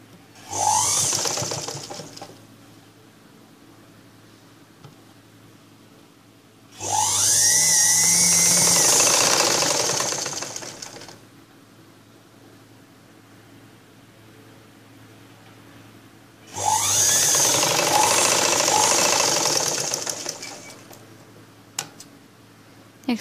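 A sewing machine stitches blouse fabric in three separate bursts of steady rapid whirring. Quiet pauses fall between the bursts, and the sound is close and fairly loud with no talking.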